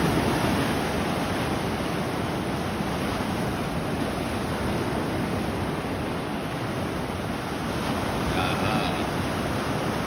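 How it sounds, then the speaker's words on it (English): Gulf of Mexico surf crashes in a continuous roar of breaking waves at sunrise, with steady wind noise on the microphone and no clear pauses between sets. "you can see here they just keep crashing one after the other"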